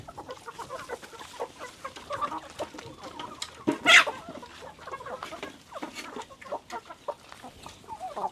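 Chickens clucking and squabbling close by while feeding on napier grass at a farm pen alongside pigs, a steady scatter of short clucks with one louder squawk midway.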